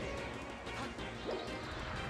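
Super Smash Bros. Melee up smash landing on a dashing opponent, a short crunchy impact burst amid steady game noise and crowd murmur, with no clear speech.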